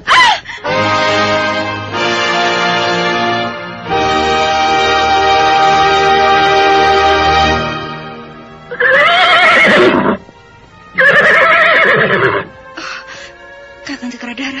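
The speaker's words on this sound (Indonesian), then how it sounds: "Kakang Cakradara, mengapa tiba-tiba kudaku melompat tinggi?" A horse startled by a thrown stone neighs loudly in long, shrill whinnies, then gives several shorter cries with gaps between them, close and dominant with no talk.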